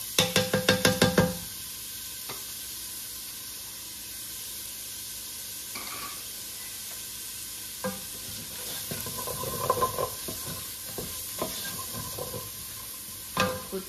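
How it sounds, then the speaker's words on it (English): Onion dropped into a hot pan, opening with a burst of rapid clattering pops, then a soft steady sizzle punctuated by occasional stirring knocks and scrapes. "gonna put our onion now"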